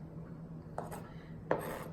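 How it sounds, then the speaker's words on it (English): A knife rocks back and forth mincing garlic, giving two faint, brief taps about three-quarters of a second apart against a quiet background hum. "Next, you want to gently rock your knife back and forth against your garlic until it is very finely minced."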